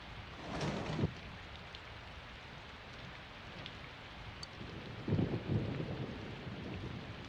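Heavy rain pours steadily outside in the video game Persona, with two low rumbles of thunder rolling in, one early and one near the end, over the constant wash of rainfall.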